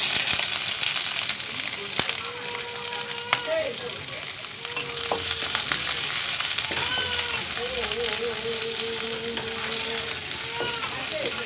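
Onions dropped into oil with crackled mustard seeds and urad dal hiss and sizzle steadily for a jackfruit stir-fry, with occasional spoon scrapes and clinks over a constant frying wash and some faint background voices.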